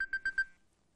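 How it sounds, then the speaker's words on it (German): A phone timer goes off with four quick, evenly spaced electronic beeps at one pitch, then falls silent. "Jetzt ist unser Timer abgelaufen."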